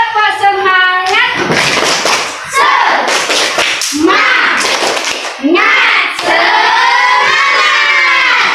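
A class of young schoolchildren in an Indonesian classroom performs a rhythmic group spirit clap, loud bursts of clapping mixed with children's chanting and shouting voices for several seconds.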